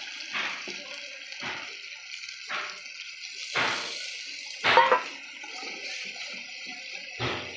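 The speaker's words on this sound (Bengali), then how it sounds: "এর মধ্যে আমি জল দিয়ে দেবো এবার" Water is poured in several short, separate splashes into a pan of spiced fish curry, each pour hissing briefly against a quiet background.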